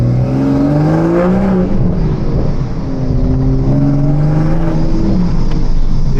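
A hybrid turbo Toyota Supra accelerates hard, the loud engine note climbing through the gears in rising sweeps with a whirring turbo spool layered over it, close and continuous.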